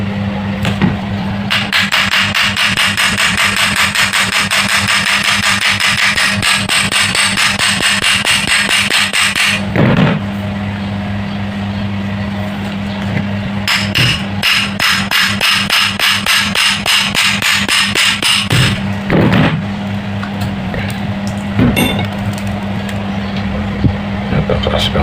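Loud, rapid banging on a dead Mitochiba electric fan during repair, knocking steadily for most of the clip with brief pauses over a constant low hum, while a voice speaks now and then.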